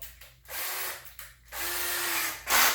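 A power drill whirs in two bursts with a short pause between, loud and close, then a sharper high-pitched spin-up at the end.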